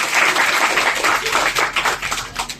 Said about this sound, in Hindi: जरा जोरदार तालियों से स्वागत करो जी।